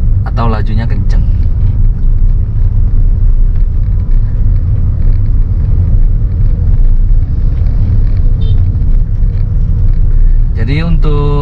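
A manual car's engine as the clutch is released and the accelerator pressed, giving a loud, steady, close rumble throughout, with brief voices near the start and end.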